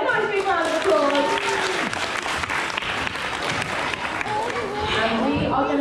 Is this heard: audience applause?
yes